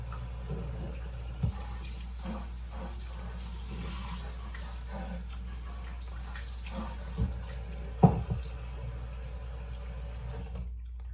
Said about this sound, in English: so now I'll just make me some rinse water